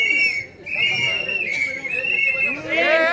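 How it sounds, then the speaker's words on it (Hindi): Shrill whistles blown by a crowd at a municipal election rally in Maharashtra, sustained overlapping tones repeating across the clip over background chatter and crowd murmur. "एक मिनट सब सीटी मत बजाओ।"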